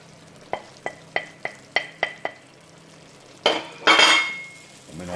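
Beef bourguignon with mushrooms and lardons stirred in a pot: a quick series of sharp spoon clinks against the rim, then two longer scraping, sizzling stirs close by.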